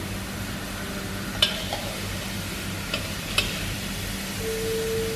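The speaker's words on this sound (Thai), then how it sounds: "อมาโดนความร้อนสักพักนะคะ ทีมันก็จะแห้งก็จะมีน้ำมันออกมา" Coconut cream simmering in a pan while being reduced until its oil separates, giving a steady soft sizzle with a couple of sharp clicks from a utensil, moderately quiet and with no talking.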